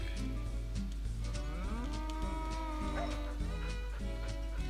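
Several cows in the farming game Agricultural Simulator 2013 moo loudly and close by, long sliding calls overlapping one another above a steady low drone, with a few short clicks and no voices.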